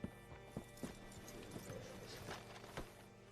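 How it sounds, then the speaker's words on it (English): Horse hooves clopping at a walk in the video game Red Dead Redemption 2, a quiet, uneven run of hoof strikes on hard ground, about seven or eight distinct thuds over a few seconds. "Hitch your horse up here."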